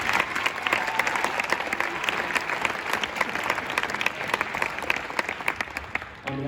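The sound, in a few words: audience applause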